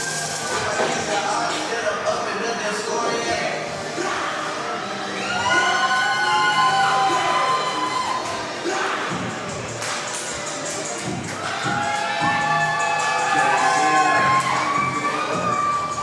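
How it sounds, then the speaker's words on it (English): A pro wrestling crowd cheers wrestler Jus Nic, a roaring arena mass of voices with rising shouts and high-pitched whoops that swell in waves over the full stretch. "Listen to this crowd and the reception they are giving to Jus Nic."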